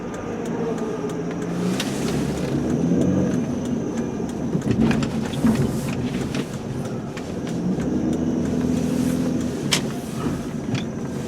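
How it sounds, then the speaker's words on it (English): Cement trucks roll in and out nearby, a steady heavy low engine rumble with passing swells and occasional clanks, continuous and fairly loud. "we got a bunch of cement trucks rolling in and out"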